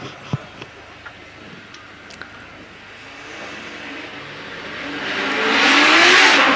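A hillclimb race car with a 4-litre Judd engine in the back launches from the start, a few ticks and clicks giving way to a rising, increasingly loud engine roar heard from nearby.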